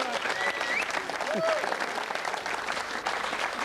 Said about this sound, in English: Let's have a round of applause for Sharon on the sofa.